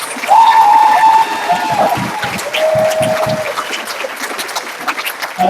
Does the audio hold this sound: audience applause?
yes